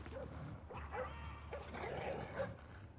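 Dog barks and yips from the Splinter Cell Blacklist video game, a few short sharp calls spaced through a busy game soundscape at moderate loudness.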